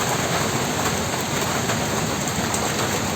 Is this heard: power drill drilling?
no